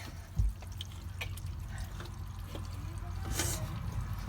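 Water running from an RV sink through a three-stage inline filter, a low steady rush with scattered drips and splashes, fairly faint.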